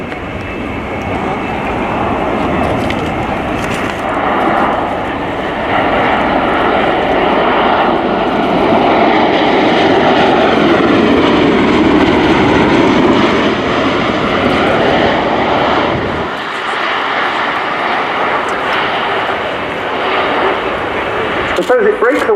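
Bell Boeing CV-22 Osprey tiltrotor flying a display at RIAT 2018, a loud steady rotor and engine roar sweeping past with shifting pitch, dipping briefly before returning, with a voice talking over it.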